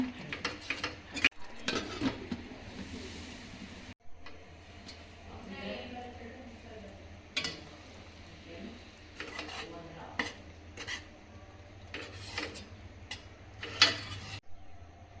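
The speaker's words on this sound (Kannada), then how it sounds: "ಚೆನ್ನಾಗಿ ಮಿಕ್ಸ್ ಮಾಡಿ ಒಂದು ಐದು ನಿಮಿಷ ಲಿಡ್ನ ಕ್ಲೋಸ್ ಮಾಡೋಣ" Palak rice being stirred in a metal pot, with scraping spoon clatter, clinks and a lid set down, close and moderately loud, with a few sharp metallic knocks between quieter stirring.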